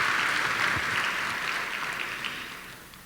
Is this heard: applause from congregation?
yes